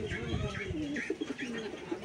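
Pigeons kept at a rural house with ducks, chickens and goats coo in a close, steady chorus of soft, repeated rolling calls, with faint chirps mixed in and no talking.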